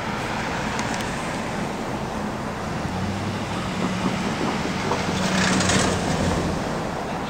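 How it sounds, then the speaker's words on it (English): A train runs through a station with a steady broad rumble and rushing noise throughout, swelling slightly near the end, with a faint high squeal in the background and no talk. "Here at the train station filming trains today."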